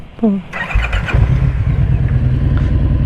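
A motorcycle engine cranks briefly and catches, then settles into a steady, loud, close idle.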